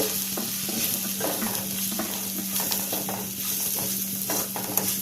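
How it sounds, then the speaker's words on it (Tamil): Cumin, turmeric and chili powder being stirred in a frying pan for a black-eyed pea kulambu: a continuous close sizzle with repeated scraping strokes and a faint low hum underneath. "இது ஒரு டைம் மிக்ஸ் பண்ணி விடுங்க"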